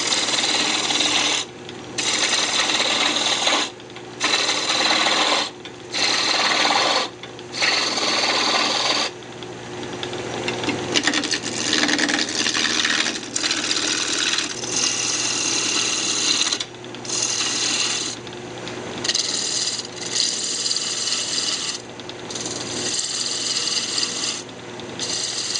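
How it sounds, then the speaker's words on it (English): A wood lathe turning a tenon on a bandsaw box, a continuous rasping scrape of the tool cutting the spinning wood, broken into repeated short bursts and then longer passes, close and steady with no talk. "I'm actually going to turn a tenon down here"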